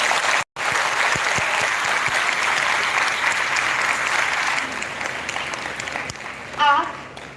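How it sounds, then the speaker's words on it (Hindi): Sustained loud applause from a college audience honoring their principal at a faculty introduction event, dense clapping continuing for several seconds before thinning out near the end. "हम सबकी प्रिय आचार्य प्रोफेसर निवेदिता जी के लिए जोरदार ताली"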